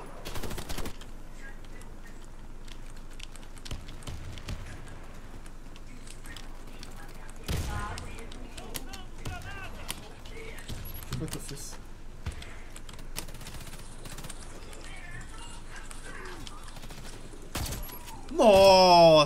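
Bursts of rapid gunfire crackle amid sound effects in the game Warface, with a UTAS UTS-15 shotgun, people talking excitedly over the action and a loud blast near the end.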